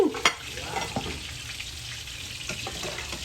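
Food sizzles and crackles steadily in a Hexclad frying pan, a close, continuous fry with a few sharper clinks and stirring sounds near the start.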